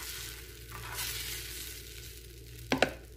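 A spring roll sheet for chicken spring rolls fries on a hot pan without oil, a quiet steady sizzle with a brief clatter of handling near the end.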